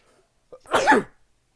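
A single indoor sneeze, short and sharp with a brief intake of breath just before it, close and alone in a quiet room.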